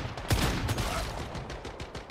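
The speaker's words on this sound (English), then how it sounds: "I need you to stop shooting." Rapid bursts of gunfire in the video game Once Human, dense and loud, with repeated shots overlapping across the whole stretch and no talk.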